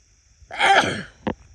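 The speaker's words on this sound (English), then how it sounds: "Here comes a sneeze." A single close sneeze outdoors on a wilderness trail, a sharp burst followed by a short breathy catch, with no talking.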